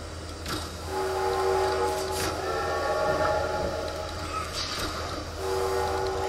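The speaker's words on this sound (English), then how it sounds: "This train goes really slow" A slow-moving train in the Poppy Playtime video game gives a steady, close rumbling drone, with faint, drawn-out whistle tones rising over it now and then.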